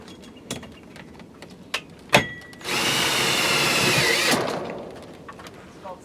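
A power drill drives a self-tapping screw into an aluminum awning back bar: a few clicks and a sharp knock, then one steady whirring run of about two seconds that winds down, close and loud.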